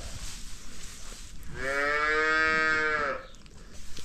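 Farm calves on ad lib milk feeding, one giving a single loud, sustained moo of about a second and a half, close by, with quiet barn ambience before and after.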